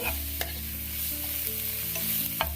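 Green chillies stir-fried over a high flame for veg fried rice, with a steady close sizzle throughout and a few sharp spatula scrapes against the pan.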